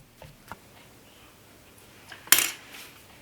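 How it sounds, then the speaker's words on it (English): A long metal skewer pokes holes in a hot coconut oat cake in its pan, giving a few faint taps and light clinks, with one sharper metallic clatter near the end. "Now we're going to take a long skewer and just poke some holes in here."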